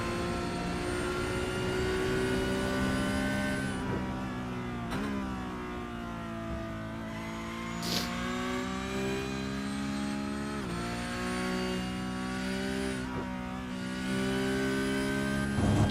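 A Porsche Cup race car in the iRacing simulator revs hard throughout, its engine pitch climbing and dropping through gear changes, loud and continuous with no voices.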